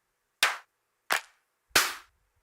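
Three sharp clap one-shots from a 90s sample pack are triggered on a Predator III synth, each a loud, dry smack with a short decay, spaced evenly apart.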